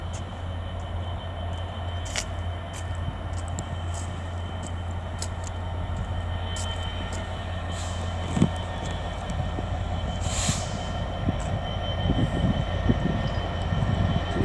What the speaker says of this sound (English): We should also have 800-108 passing by behind me